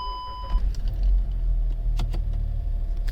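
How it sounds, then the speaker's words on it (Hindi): A Skoda Kushaq 1.0 manual has its ignition switched on: a short electronic chime, then a loud, close engine start whose low rumble settles into a steady idle, with a few clicks and knocks over it. "गाड़ी का इग्निशन करता हूँ मैं ऑन"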